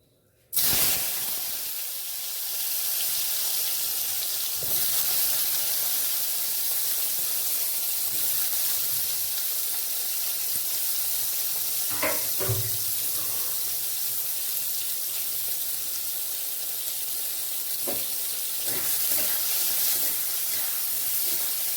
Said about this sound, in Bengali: তেল এখানে গরম হয়ে গেছে, এবার আমি ভেজে নেবো বেগুনগুলো।